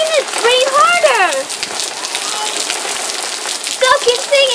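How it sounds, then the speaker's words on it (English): Steady rain pours down outdoors in a dense, continuous hiss, with a child singing and an adult talking over it throughout. "Look, it's rain."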